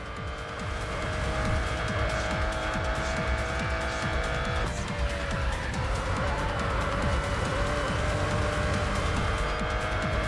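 A CLK race car in the Racing Master game laps the Nurburgring, its engine droning continuously at high revs with tire squeal through the corners, loud and steady throughout.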